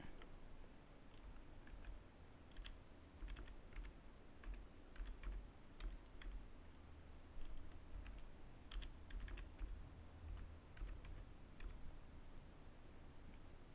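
Computer keyboard being typed on while a user password is created on a Windows Server 2003 machine, quiet close irregular key clicks in short bursts over a low steady room hum.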